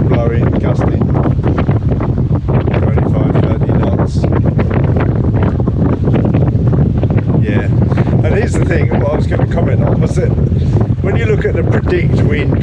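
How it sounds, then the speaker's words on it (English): Strong gusting wind over a sailboat at anchor, a loud continuous roaring buffet against the microphone with surging gusts, water and rigging noise beneath, and a voice speaking partly under the wind. "it's still very, very breezy here."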